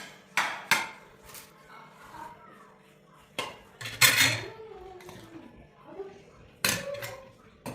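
Dishes and cutlery clink and clatter as picnic food is served onto plates at a family home gathering, with several sharp knocks and scrapes spread through the clip and soft voices talking faintly in the background.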